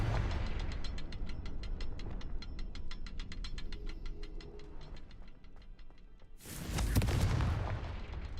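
A Confringo blasting spell explosion in Hogwarts Legacy, a heavy blast and crackling burst near the seventh second, preceded by a long run of rapid, evenly spaced ticking over a low rumble.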